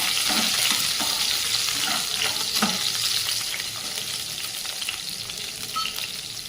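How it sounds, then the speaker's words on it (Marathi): Garlic and green chili pieces sizzle steadily in a hot pan for a home-style dry spinach dish, a close, continuous frying hiss with occasional soft stirring scrapes. "लसूण चांगला फ्राय होऊ द्यायचा त्यामध्ये आपण हे हिरवी मिरचीचे तुकडे टाकून घेत आहोत"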